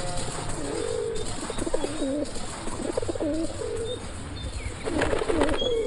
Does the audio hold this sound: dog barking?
no